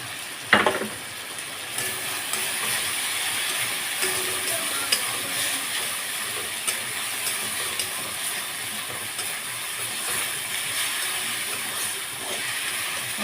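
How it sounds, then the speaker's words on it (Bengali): Fried potatoes dropped into a hot pan for an aloo dal dish, a sharp splash at the start followed by a loud, steady frying hiss with occasional stirring scrapes. "এবার ভেজে রাখা আলুগুলো দিয়ে দেবো"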